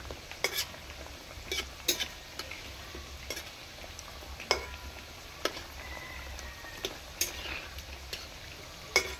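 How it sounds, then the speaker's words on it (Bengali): Palm-fruit jilipi frying in hot oil in a pan, a steady soft sizzle broken by small ticking pops and occasional light clicks of a utensil, close and quiet throughout. "এই দেখুন লাল লাল করে ভেজে নিলাম।"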